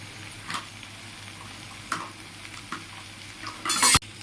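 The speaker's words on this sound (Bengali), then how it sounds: "মশলাটা খুব ভালো করে ভাজা হয়ে গেছে এবং সবজিগুলো ভালো করে ভাজা হয়ে গেছে" Spices and vegetables frying in a pan, a low steady sizzle broken by a few utensil scrapes and clinks, ending in a loud sharp clatter of metal.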